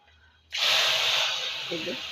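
Fenugreek seeds drop into hot oil and burst into a sudden sharp sizzle that stays loud and hissing, with a faint voice murmuring underneath.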